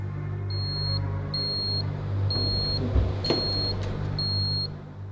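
A detection system alarm in an underground parking garage setting, giving five evenly spaced high-pitched electronic beeps over a steady low hum.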